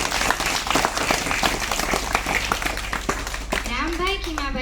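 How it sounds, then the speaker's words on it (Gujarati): Applause at a school admission festival in Gujarat, welcoming an absent donor, a steady patter of clapping through the clip, with children's voices and a bright whistle-like tone rising near the end. "તો તેઓનું આપણે તાળીઓના ગડગડાટથી સ્વાગત કરીએ"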